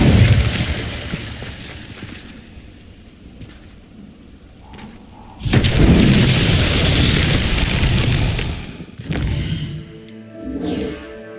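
An Incendio fire spell is cast in Hogwarts Legacy, loud bursting whooshes and rumbling booms that surge, fade and surge again, ending in sharp magical crackles.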